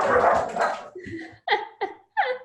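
Dogs let out of a house indoors during an online presentation give a few loud, close barks and yips in separate bursts, following a short stretch of talk.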